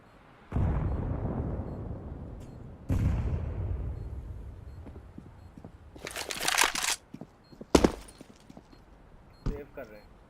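Game explosions and gunfire from a tactical shooter round where a grenade is thrown: two heavy low booms early on, then sharp bursts and crackling pops later, with players talking over the action.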